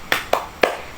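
Three sharp, evenly spaced claps ring out in a classroom during a group cheer, each a crisp single smack with short decay and no voices over them.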